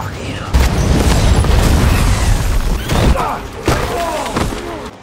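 Heavy booming blasts and thuds from a submarine action blockbuster, with a loud rumbling explosion followed by further impacts and debris, mixed under a narrator's talk.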